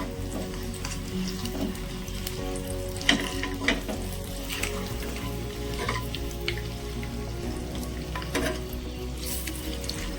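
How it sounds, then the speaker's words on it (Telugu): Eggs fry in a pan for an Andhra-style veg thali, giving a steady close sizzle with occasional scraping and stirring taps throughout. "ఇలా రొటేట్ చేస్తూ ఫ్రై చేసుకోండి లేదంటే కింద అడిగంటుతుంది"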